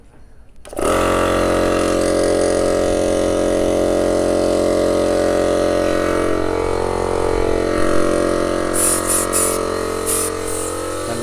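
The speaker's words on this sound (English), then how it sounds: "And this one is the air compressor." An air compressor on a cement soil interlocking brick machine starts up and runs loud and steady with a constant droning hum and rattle, close by, with no speech.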